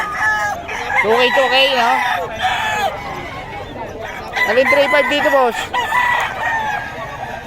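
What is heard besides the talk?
chickens and roosters at a fowl market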